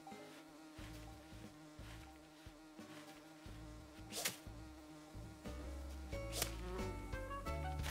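A bee buzzing in the video game Animal Crossing: a continuous droning hum, fairly close and steady, with a few sharper clicks and tones over it and no talking.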